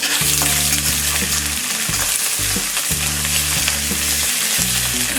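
Ginger and green chili frying in a pan of oil for a light breakfast sevai upma, a dense, close sizzle with stirring throughout, alongside a repeating tonal pattern in the background.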